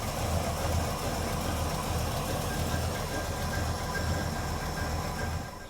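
1942 Chevy custom pickup engine fitted with a big Holley carburetor, running warm at a steady idle, a dense continuous rumble close up and fairly loud, easing off slightly at the very end.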